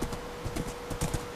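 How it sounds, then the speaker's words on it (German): Horse hooves clip-clop at a quick, even riding pace in Minecraft, a bright clatter of steps with no talk over them. "Hier kann man gut mit dem Pferd durchreiten."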